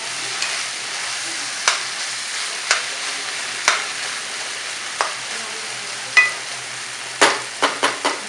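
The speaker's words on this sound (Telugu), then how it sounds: "ఉడికేంత వరకు బాగా ఫ్రై కావాలి" Shark curry (sora puttu) frying in a pan gives a steady, even sizzle, broken by sharp clicks of a utensil against the pan every second or so that come faster toward the end.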